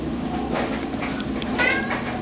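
A fat house cat meowing up close, with a few short, slightly strained calls over a faint room background.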